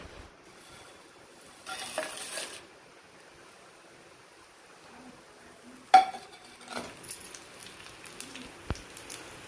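Urad dal, coriander seeds, fenugreek and mustard seeds dry-frying in a pan on a stove, with faint sizzling, scraping stirs and light clinks of a utensil against the metal pan, in scattered bursts.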